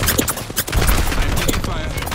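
Gunfire from a battle in the Apex Legends video game: a dense burst of rapid shots and impacts rattles up close over continuous game noise, with a few sharper cracks standing out.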